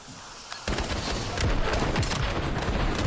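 Dense, rapid gunfire rattles through a Call of Duty League championship match, starting quieter and then jumping to loud, continuous bursts of overlapping shots for the rest of the stretch.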